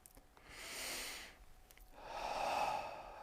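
Two slow, deep breaths, close and soft, each a long airy inhale or exhale swelling and fading with a short pause between.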